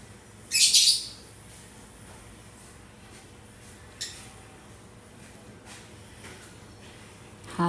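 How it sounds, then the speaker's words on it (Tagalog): A bird chirps in a quick bright burst near the start, followed by a few faint, scattered tweets against a quiet background hum, heard in a kitchen while pancit is cooked. "Dinig niyo yung mga ibon ko."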